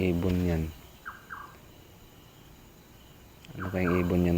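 Short chirping calls of a bird in a coconut tree sound between stretches of speech, a pair of brief upward chirps in the quiet middle, with more calls mixed into the talking.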